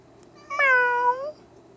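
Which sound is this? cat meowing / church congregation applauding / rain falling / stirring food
cat meowing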